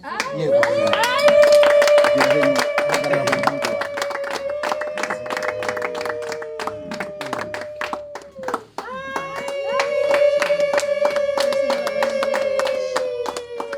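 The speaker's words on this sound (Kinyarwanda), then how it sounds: "ubundi muhe impundu n'amashyi" A crowd claps rhythmically with fast, dense handclaps, and high sustained ululation trills ring out over it, loud and continuous with a brief dip partway through.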